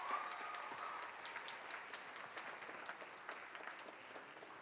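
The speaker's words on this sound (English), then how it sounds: "Give a big round of applause to Cardinal Voices and Sir Max Mendez." Applause for the Cardinal Voices ensemble and Max Mendez at a fall jazz concert, a soft, steady patter of clapping from a distant audience that tapers off slightly.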